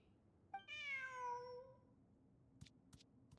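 A single clear cat meow in the video game Genshin Impact, a drawn-out rising then falling call, followed by faint clicks and quiet background.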